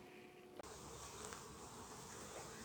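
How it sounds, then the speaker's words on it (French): Honey bees buzzing around an open beehive, a steady close insect drone filling the air, with a brief knock partway through and no talk. "on voit, il y a pas mal d'abeilles"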